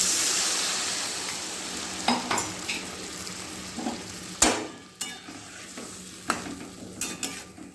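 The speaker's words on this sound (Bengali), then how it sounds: "পেঁপে আলুগুলো কষানো হয়ে গেছে এবার অ্যাড করে দেবো জল" Water is poured into papaya and potatoes frying in a pan for a magur fish curry, a soft hiss and sizzle broken by sharp clinks and scrapes of a utensil against the pot.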